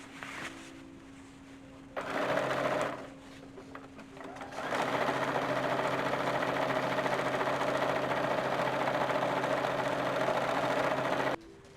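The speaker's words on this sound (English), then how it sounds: "I am sewing together the lining and the skirt bit now" A sewing machine joins the lining to a silk skirt for an early 1850s summer ensemble, first in a short run, then after a pause in a long, steady, close whirring stretch.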